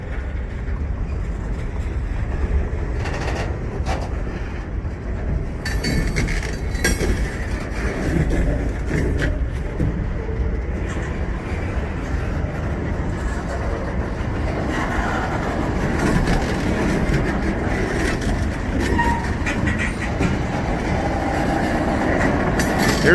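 A freight train with gondola and tank cars rolls past close by, with continuous loud rumbling, clanking wheels and rattling cars through the whole stretch and no talking.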